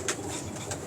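Racing pigeons in a loft in Lahore coo close by, a steady, soft, throaty burbling that runs through the whole short stretch with no other sounds.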